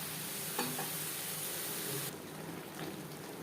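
Summer vegetables for a catla fish curry frying on a high-to-medium flame, a constant soft sizzle with a few light utensil scrapes as they are stirred, with no voices.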